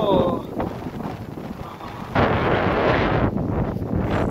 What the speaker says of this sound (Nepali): हावा चल्न थाल्यो पानी पनि अलिअलि पर्न थाल्यो